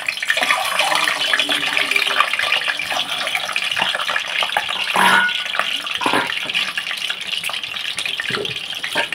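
Eggs hit hot oil in a pan and a dense, steady hiss follows, loud and close throughout with a few sharper crackles, and no one speaks.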